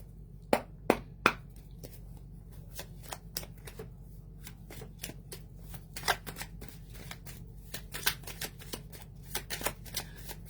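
Tarot cards are shuffled close to the microphone, giving sharp riffling snaps and soft slaps. Some strokes come in quick clusters and others are spaced irregularly, with light background hum.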